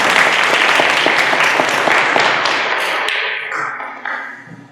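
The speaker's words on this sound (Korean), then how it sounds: "우리 모두 함께 먼저 박수로 영광 드리겠습니다" Church congregation claps together at a 16th anniversary thanksgiving service, a dense, loud burst of many hands that thins and fades toward the end.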